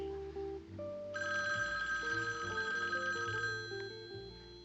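An old telephone bell rings steadily and fairly loud behind a background of music with sustained tones, with no talking.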